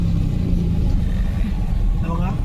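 Traffic crawls along the narrow Mumbai-Goa highway at Mangaon as a continuous low engine rumble from nearby cars and trucks, with a voice heard over it.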